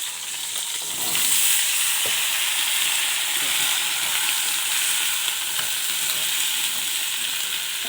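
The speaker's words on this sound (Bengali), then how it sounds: "কুমড়োটা আর আলুটা এখানে ভেজে নেবো আমি অল্প অল্প করে, ডাঁটা সব কিছু দিয়ে একটু ভেজে নেবো।" Pumpkin, potato and stalk vegetables frying in oil with dried chilli and five-spice, a loud steady sizzle that swells after a second and holds close and constant.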